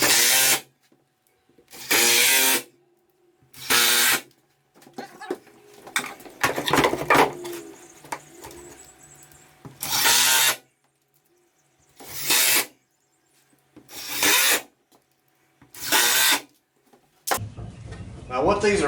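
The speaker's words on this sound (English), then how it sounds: "I'm going to set them on this board right here and just screw them to this plywood." A power drill drives screws into plywood in several separate loud bursts with short gaps between them, and a voice talks in between the runs.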